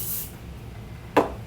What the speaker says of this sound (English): So now I'm gonna take my glue dryer spray,